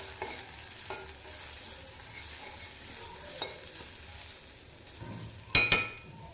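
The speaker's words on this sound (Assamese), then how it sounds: "আৰু পুনৰ ভাজিব।" Drumstick flowers frying in a pan with salt and turmeric, a low continuous sizzle with occasional stirring scrapes and a sharp clink of a spoon against the pan near the end, close and without talk.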